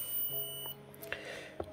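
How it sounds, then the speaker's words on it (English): A multimeter in continuity mode gives short, faint electronic beeps as its probes touch while testing a graphics card, a few brief tones over a quiet hum. "As soon as I do like touching these two, you can hear the beep."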